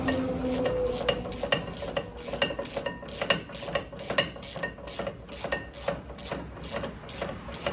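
Ratchet clicking in quick, even bursts, close and clear, while bolts are tightened on the rear brake caliper of a 2012 Ford Focus during a pad and rotor replacement, with no talk over it.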